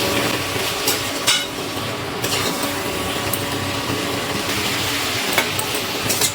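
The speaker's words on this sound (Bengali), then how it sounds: "খুব ভালো করে সব কিছু আবারও একটু নাড়াচাড়া করে নিচ্ছি।" Fried shrimp being stirred in a pan with ridge gourd and potato for a curry: continuous sizzling with intermittent scraping and knocking of the spatula, close and moderately loud.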